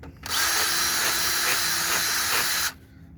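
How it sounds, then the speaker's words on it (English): A small reamer spun by a power drill at low speed cleans out a bolt hole during a Jeep Wrangler TJ rock slider install, a close, steady whirring burst that starts abruptly and stops cleanly after about two and a half seconds. "Just taking a little reamer on low speed and we're just kind of cleaning it up a little bit"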